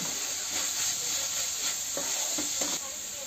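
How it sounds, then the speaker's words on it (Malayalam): Chili powder sizzling in a pan of spiced oil while cooking fish molee, a continuous close hiss with a few soft stirring scrapes near the end. "ഇനി കുറച്ച് മുളക് പൊടിയും കൂടി ഇടും."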